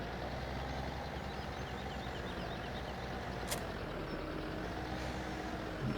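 Low, steady engine drone of a tractor pulling a seeder in the video game Farming Simulator 17, heard at a constant level throughout with one short hiss midway.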